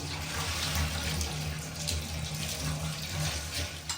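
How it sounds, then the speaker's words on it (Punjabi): Steady running water from a tap splashes continuously into a sink, close and even, with no speech. "ਮੈਂ ਨਾ ਇੱਧਰ ਪਾਣੀ ਧੋ ਲਵਾਂਗੀ"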